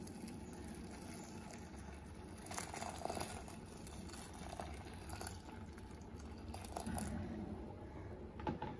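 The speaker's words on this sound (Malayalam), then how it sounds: "ഞാൻ കോളിഫ്ലവറിലേക്ക് നല്ല തിളച്ച വെള്ളം ഒഴിച്ചു കൊടുക്കുകയാണ്" Boiling water poured over cauliflower pieces in a home kitchen, a soft, continuous splashing and trickling with a few brief louder spurts, faint and close.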